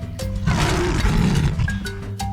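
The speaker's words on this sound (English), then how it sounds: "Then, Zoe heard a super loud roar." A lion gives a single loud, deep roar lasting about a second and a half, close and powerful, alone without talk, set against soft background music tones.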